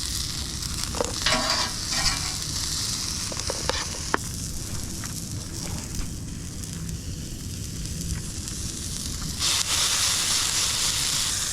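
Steak fries at a beach campsite with a constant crackling sizzle and occasional clicks and pops, steady and close throughout.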